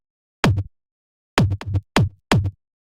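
Layered kick drum hits programmed in FL Studio for bass house, five punchy thumps, one alone and then four in a quick irregular cluster, close and loud with no voices.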